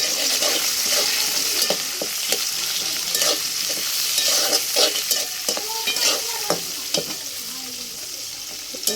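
Onion, chilli, cardamom and bay leaf fry in oil over a wood-fired stove, loud close sizzling with frequent clattering, scraping stirs throughout.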